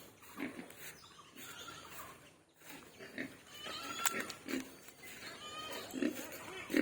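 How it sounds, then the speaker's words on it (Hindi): Pigs grunt and snuffle on a pig farm set beside flooded fishery ponds, a close, busy jumble of low grunts repeating throughout with faint background noise. "और ये सुअर का फार्म।"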